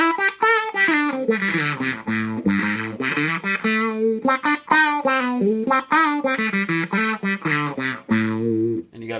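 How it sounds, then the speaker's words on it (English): Maestro Rhythm N Play wow-wow auto-wah effect on a fuzz-toned guitar, steady sweeping filtered notes playing continuously and loud, with a rhythmic warbling vowel-like modulation throughout. "Then you have this wow wow, which is sort of an auto wah thing."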